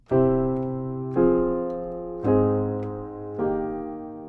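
Four sustained keyboard chords struck one after another at an even pace, each ringing and fading before the next, shifting through changing harmonies.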